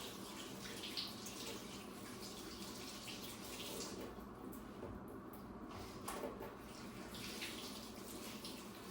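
Vegetables washed under a running kitchen tap, a steady close hiss of flowing water with a few brief splashes and changes as the produce is moved under the stream.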